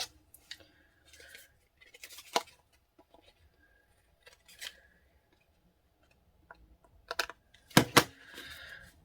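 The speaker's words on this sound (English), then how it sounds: "So I'm going to trim that edge." Scissors trim the edge of decorative paper during a handmade happy-mail craft session, giving a few quiet snips spaced out and then a louder cluster of close cutting sounds near the end, with no talking.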